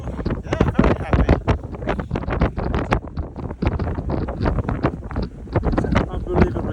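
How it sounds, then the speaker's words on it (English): Strong wind batters the microphone on an exposed snowy Scottish mountainside in a blizzard, a loud, constant buffeting roar that gusts and flutters throughout, with people talking beneath it. "It's unbelievably windy here, you can barely stand."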